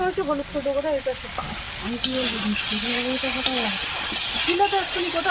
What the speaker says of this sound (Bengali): মাছ ভাজতেই তো একটা বড় সময়ের ব্যাপার